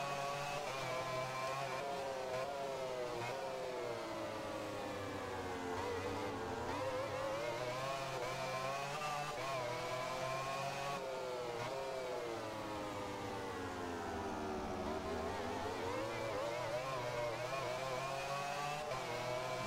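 A motorcycle engine in the MotoGP 15 racing video game whines continuously, its pitch climbing and dropping in long sweeps as the revs rise and fall through gear changes, heard alone without talk.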